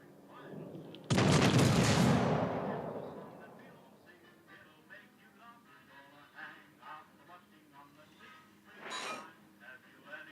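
Heavy naval gun salvo from a warship in World of Warships: Legends, one loud booming blast that rolls and decays over a couple of seconds, followed later by a sharper second impact, with game voice lines and quiet talk around it.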